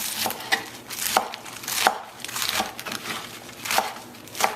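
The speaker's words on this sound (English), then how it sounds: "I'm just going to give that a rough chop as well." Baby bok choy roughly chopped with a knife on a board, a run of crisp, crunchy cuts at an uneven rhythm, close and clear with no voices.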